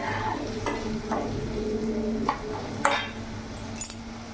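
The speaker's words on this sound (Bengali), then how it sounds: "জিরে গুঁড়ো দিয়ে দিলাম, ধনে গুঁড়ো দিয়ে দিলাম, আর এখানে লঙ্কা গুঁড়ো দিয়ে দিলাম। ভালো করে নাড়াচাড়া করে নেব।" Ground cumin, coriander and chili powder fry in oil with a constant sizzle, broken by several sharp scrapes and clinks of a spoon stirring against the pan, close and moderately loud, with no talking.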